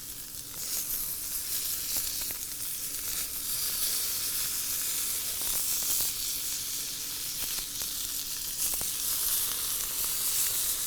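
Chicken livers sizzle steadily on a hot grill, a loud, even crackling hiss holding through the whole stretch with small pops scattered across it and no voices.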